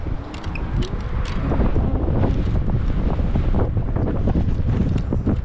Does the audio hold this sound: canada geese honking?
no